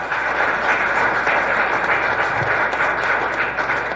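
A church congregation claps steadily throughout, a dense, loud, sustained applause filling the room without pause.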